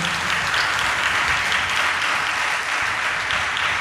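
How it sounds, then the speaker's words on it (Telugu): A church congregation at Sunday worship clapping loudly, a continuous dense roar of hands close and steady throughout, with no voices standing out. "చప్పట్లు కొట్టండి గట్టిగా"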